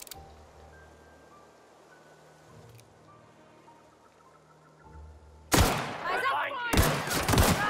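Light machine gun fire in The Outer Worlds erupts suddenly after a quiet stretch of low ambient hum, as loud, dense bursts of rapid shots that continue to the end.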